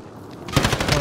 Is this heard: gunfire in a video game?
yes